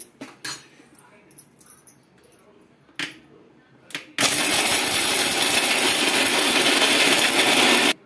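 A few soft bumps and clicks, then a loud, steady mixer grinder roars from about four seconds, grinding roasted peanuts for chutney, whirring continuously until it cuts off abruptly at the end.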